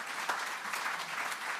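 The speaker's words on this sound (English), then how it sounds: "she deserves an extra applause because she stepped in last minute." Applause from a research conference audience, a steady dense wash of many hands clapping without pause, moderately loud and heard alone.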